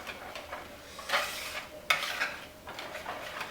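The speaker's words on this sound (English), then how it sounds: "I'm going to slowly stir in that whole can of evaporated milk." Evaporated milk being slowly stirred into pumpkin pie filling in a deep bowl, soft swishing strokes repeating in an unhurried rhythm, close and fairly quiet, with no voices.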